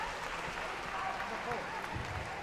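Spectators at a water polo match between Air Force and OTSC for the President's Trophy 2024 cheer and applaud a goal, a continuous roar of crowd noise at even loudness throughout.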